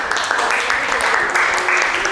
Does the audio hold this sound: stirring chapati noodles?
no